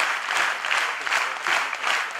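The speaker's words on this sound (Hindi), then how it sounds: "तो पहले अपने लिए ताली ठोको" An audience at a talk breaks into steady applause, a moderately loud wash of clapping that swells and eases in soft waves throughout.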